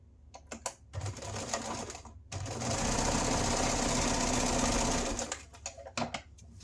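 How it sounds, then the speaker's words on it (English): A sewing machine stitches a short quarter-inch fabric seam for a wand holster: a steady, close mechanical whir running for a few seconds, with brief start-stop bursts and handling clicks before and after. "We're going to stitch that short side together at 1/4 of an inch."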